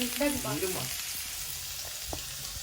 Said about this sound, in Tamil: வெங்காயம் போட்டேன் ஸோ வெங்காயம் போட்ட பிறகு நல்லா வெங்காயம் வந்து வதக்கணும்